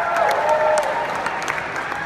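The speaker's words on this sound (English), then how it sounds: "Yeah, you can clap for that." An audience at a LifeVantage global convention claps steadily in a dense, continuous patter that fills the room, with scattered individual claps standing out.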